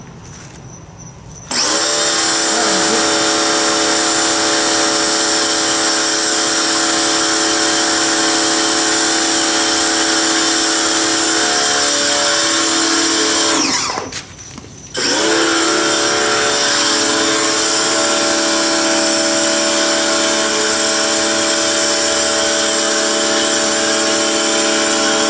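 Pressure washer driving a foam cannon that sprays soap onto a Jeep, a loud steady hissing roar that starts after a quiet moment, cuts out briefly around two-thirds through, then resumes at full strength.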